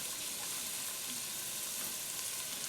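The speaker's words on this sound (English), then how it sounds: "we saute that down a little bit for a little while. I can add my garlic now" Minced garlic sizzles steadily in hot oil while being sauteed for venison chili, a constant close frying hiss with no talking.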